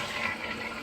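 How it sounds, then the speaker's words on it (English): A toilet flushes with the button held down to drain the tank, a steady, continuous rush of water, fairly faint, with no talking. "So Pierce, mash the button and hold it down. What you want to do is drain the entire toilet"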